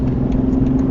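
Car merging onto a highway in the dark, recorded by a Nextbase 522 dashcam: a steady, loud low engine and road rumble with a constant droning hum, no breaks.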